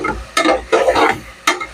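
Onions and curry leaves frying in a pan, heard as three short bursts of stirring and scraping with sizzle between quieter pauses, close up.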